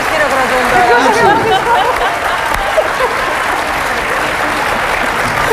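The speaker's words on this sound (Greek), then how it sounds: "Κοιτάξτε, οι γυναίκες χειροκροτούν τώρα." Women in a live comedy show audience applaud loudly, a dense steady wash of clapping with crowd noise underneath throughout.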